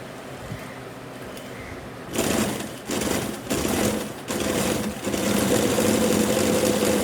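A sewing machine stitches a fabric belt for ethnic wear, running in several loud close bursts with brief pauses between, its motor whirring steadily and nothing else heard.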